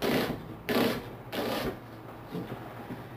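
A knife cuts an onion finely on a board, giving a few short broadband chopping bursts close by, then quieter scattered taps with no talk.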